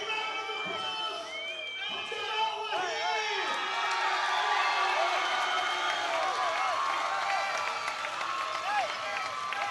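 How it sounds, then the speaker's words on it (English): Crowd at a Showdown 11 fight between Daitan Jackson of England and Jamal Wahib of France reacting to the decision, sustained loud crowd noise with shouts and whistles, mixed with a commentator's voice. "There's boos in the crowd"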